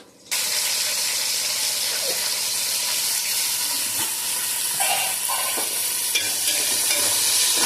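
Tomatoes sizzle hard in a hot pan of frying onions, a loud, dense hiss that rises suddenly and stays steady throughout, with a few faint clinks from stirring and no talk.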